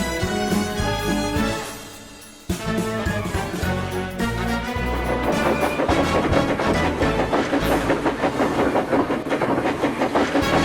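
A train rumbles along the rails with a dense, rhythmic clatter and hiss that builds and stays loud throughout.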